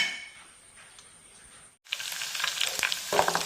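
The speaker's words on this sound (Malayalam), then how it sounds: "അതിനായിട്ട് ഞാൻ എണ്ണ ഒഴിച്ച് കടുകിട്ട് കൂടെ അരിയും ഇട്ടു." Mustard seeds and rice spluttering in hot oil, a quiet hiss that cuts out and then bursts into loud crackling pops close by, with no one speaking.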